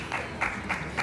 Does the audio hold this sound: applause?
yes